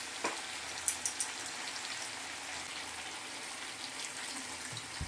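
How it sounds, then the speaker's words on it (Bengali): Mutton and raw jackfruit sautéing in a pan give a steady, soft frying sizzle throughout, with a few light scrapes and taps from stirring near the start. "এইভাবে বেশ কিছুক্ষণ ধরে ভালোভাবে নেড়ে চেড়ে আমি কিন্তু কষিয়ে নেব।"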